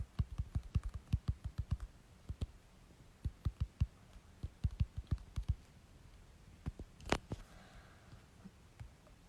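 Keys on a computer keyboard are struck in quick bursts of close, crisp clicks, broken by short pauses, with no talking.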